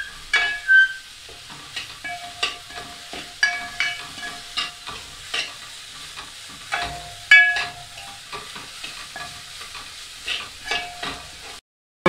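A spoon scrapes repeatedly around a frying pan as soya chunks are stirred with masala, rhythmic close stirring strokes over a faint sizzle.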